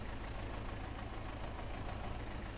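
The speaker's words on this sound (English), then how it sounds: "I'm really worried about the tractor, though." Diesel tractor engine idling with a knock in a farming video game, a steady low rumble with a rough mechanical rattle running without pause throughout.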